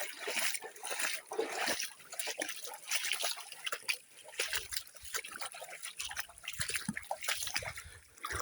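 Water splashing and trickling over rocks in a hill stream nearby, uneven and bubbly, with faint low rumbles in the background.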